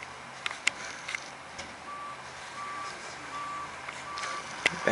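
A Mack Granite garbage truck backing up, its reversing alarm beeping in a steady repeating pattern at moderate distance over a diesel engine rumble, with a few sharp clanks along the way.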